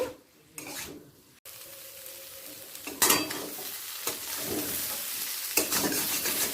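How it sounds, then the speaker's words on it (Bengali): Potato and cauliflower posto being stirred and fried in a pan: a soft sizzle underlies a few distinct scraping stir strokes and light utensil knocks, close and moderately loud. "তিন মিনিট পর ঢাকা খুলে ওপর নিচ করে নেব"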